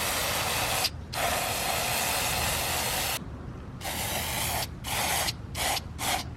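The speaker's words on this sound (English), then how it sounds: "inside you want to spray pretty liberal, like what I did, to get those wires in there" Cleaner sprays in long, loud, steady hissing bursts onto the MAF sensor from a seven-year-old Mercedes, followed by several shorter quick blasts near the end, close up with no talking.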